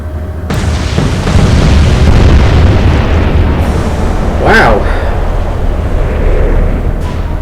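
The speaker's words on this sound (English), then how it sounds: "Vega already providing fireworks, courtesy of a magazine detonation." A ship's magazine detonates after torpedo hits in the naval video game Atlantic Fleet, a loud, rumbling explosion that starts abruptly and roars on for several seconds, with a sharper burst partway through.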